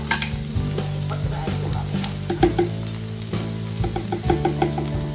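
Okra (bhindi) frying in ghee or oil, a loud steady sizzle close up with repeated clatter and scraping of a spatter stirring in the pan.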